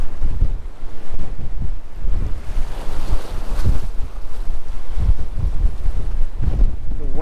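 Strong gusting wind buffets the microphone at a sea jetty while waves wash below, a loud, constant roar for the full stretch with low rumbling bursts.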